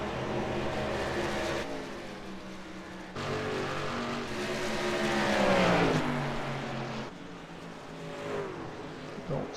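Race trucks at Darlington pass the start-finish line with a sustained, loud engine roar that swells and falls as the pack goes by, several engine notes layered together.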